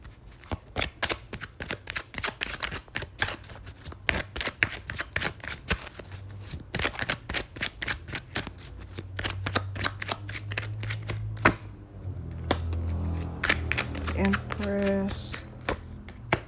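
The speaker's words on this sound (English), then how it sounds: "let me shuffle again" Rapid, crisp flutters of tarot cards being shuffled repeatedly, close by, with a few quiet murmurs near the end.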